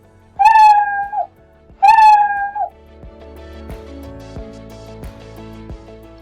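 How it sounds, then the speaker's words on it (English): Two drawn-out cartoon cat meows from the Scratch programming tool, each loud and clear, followed by a soft ticking music-box-like tone pattern with steady faint clicks. "you'll hear your computer make a meow sound"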